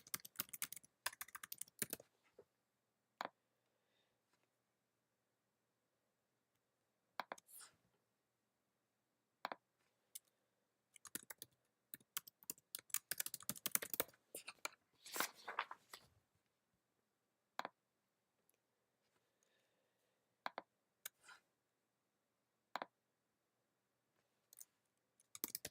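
Soft, close computer keyboard typing comes in scattered bursts of rapid clicks, with longer quiet stretches and occasional single taps.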